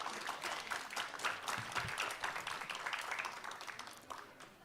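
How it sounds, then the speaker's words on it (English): An audience at a media conclave on a Bengaluru campus applauds, a dense, even patter of many hands clapping that holds steady and fades slightly at the end, fairly soft and distant. "Please give a round of applause for Ms."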